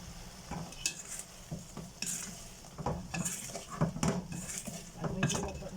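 Sautéed eggplant with black pepper being stirred in a pan, with repeated scraping and clinks of a metal utensil against the pan over a soft background sizzle and a few quiet words.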